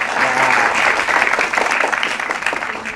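A room full of people bursts into applause congratulating a newly chosen singer at a comic singing audition, dense clapping that swells and holds for a few seconds.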